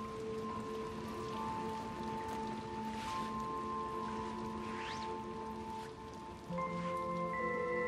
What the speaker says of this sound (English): Oh, it's raining and everything.